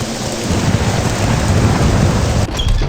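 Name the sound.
thunderstorm with rain in a video game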